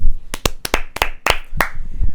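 A few separate hand claps, a small round of applause on a football podcast after the Brentford v Southampton match, loud and close with sharp uneven beats, no talking.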